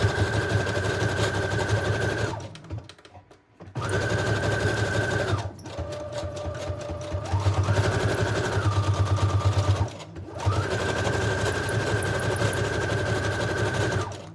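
Sewing machine stitching a pocket onto a junk journal page, several long runs of steady motor hum and rapid needle chatter, broken by brief pauses, close and loud with no voices.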